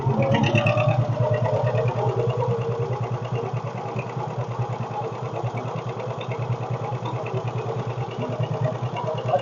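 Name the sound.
John Deere 620 tractor engine running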